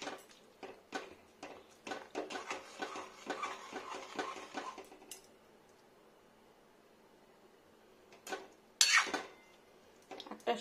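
Metal spoon scraping and clinking in a pan of vegetarian ladies finger (okra) curry, a quick run of stirring strokes, then a pause and a final few clanks, close and alone without talk.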